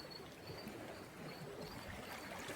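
Floodwater rushing into a village, a steady broadband wash of flowing water that holds an even level throughout, fairly close and with no talking over it.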